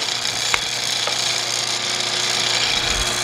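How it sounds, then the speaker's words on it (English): A single-phase induction motor runs steadily, producing a loud, continuous hum with a constant tonal drone and a faint mechanical whir throughout. "I want to get a base reading of how much current this single phase induction motor is going to draw"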